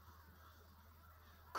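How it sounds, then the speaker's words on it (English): Crows cawing in the Saint Kotar video game, a faint, steady ambient layer of calls over a low hum, with a brief louder note at the very end. "Crows. They are everywhere. At least a dozen circling above these finger-like rocks."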